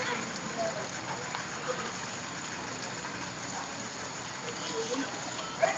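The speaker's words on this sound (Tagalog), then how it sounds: "Kasi umuulan. Ulan ng palengke." Steady rain patters over an open-air market in a broad, continuous hiss, with faint background voices and occasional clatter mixed under the wash of falling water.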